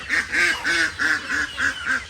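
A duck quacks loudly and close by, about seven rhythmic, evenly spaced calls in quick succession with nothing else heard.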